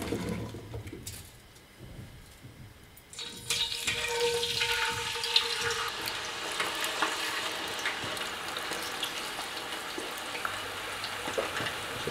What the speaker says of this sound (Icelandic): ég hendi köldum kartöflum út í núna sem mun þá